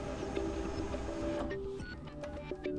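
A Samsung Xpress M2070 laser printer powers up with a steady mechanical whir and hum, then shifts into quieter whines and clicks as its startup cycle continues, heard close with no talking.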